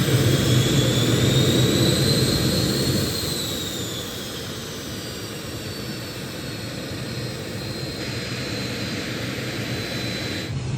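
A Cessna Citation 500 business jet departs, its engines giving a loud, steady roar with a whine that slowly falls and fades slightly as it moves away, heard at an airport with no talking.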